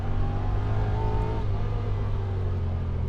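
A Honda Talon 1000R-4 side-by-side with its suspension in sport mode drives past, its engine a steady, loud droning rumble with a slight rise in pitch partway through.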